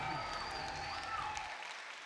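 A home crowd at a collegiate Overwatch national championship final between UC Berkeley and Toronto, cheering and applauding in a steady sustained roar that fades out near the end.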